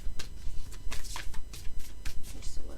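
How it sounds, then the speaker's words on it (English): Tarot cards are shuffled in quick, soft riffling bursts, close and fairly quiet, with a rhythmic flutter of card edges. "let me just shuffle these as well"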